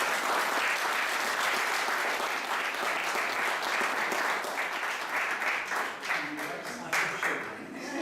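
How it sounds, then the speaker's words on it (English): A large audience applauds steadily for an award recipient at a Houses of Parliament sustainability and education leadership ceremony, dense clapping holding at full strength throughout and easing slightly toward the end. "Let's give him a big round of applause."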